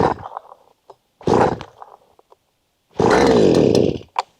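A Holzfforma petrol brushcutter being pull-started: two brief sputtering bursts from failed pulls, then the engine catches and roars loudly and steadily up close before cutting off with a short final blip.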